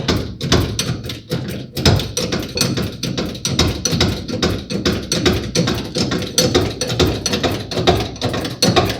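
A 20-ton jack ratchets as it lifts the body of a 1970 Camaro, giving loud, close, rapid mechanical clicks in a steady repeating rhythm with no talk.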